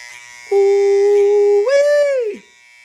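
BaBylissPRO Lo-Pro FX cordless barber hair trimmer switching on close by, a loud steady buzzing whine that jumps up in pitch partway through, then cuts off after about two seconds.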